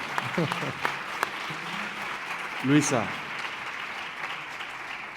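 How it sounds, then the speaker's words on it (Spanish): Audience at a panel discussion on pain in the health system applauding, a continuous patter of clapping under a speaker's voice, with a short vocal burst midway. "aplaudan, siéntense libres, por favor."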